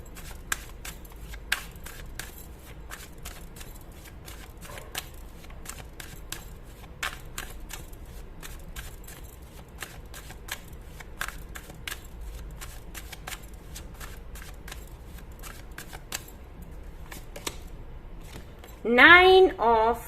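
Tarot cards are shuffled quietly and repeatedly close up, a steady run of soft riffling clicks and flicks, with a voice speaking briefly near the end.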